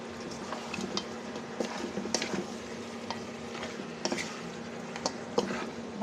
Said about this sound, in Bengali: ভালো করে কষাতে থাকবো